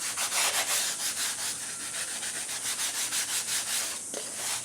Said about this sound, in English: So first here, we'll just give this a light sanding on the top.